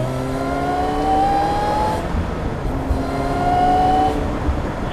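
Supercharged Ariel Atom 3R engine intake heard from the cockpit while driving, a loud continuous raw roar with two rising whines as revs climb, dipping briefly between pulls, with no talk over it.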